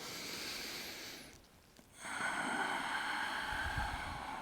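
Breathy exhale with a snort-like rush during a gorilla-arms stretching fold, a steady airy hiss that drops away briefly and then swells back, close to the microphone.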